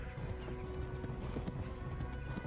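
Rapid, rhythmic hoofbeats of a galloping horse in the video game Kingdom Come: Deliverance, loud and close, pounding steadily throughout.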